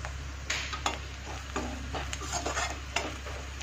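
Spices, including Kashmiri red chili powder, are mixed together in a hot pan, with soft frying hiss and several quick scrapes and clinks of a spoon against metal, close and fairly quiet.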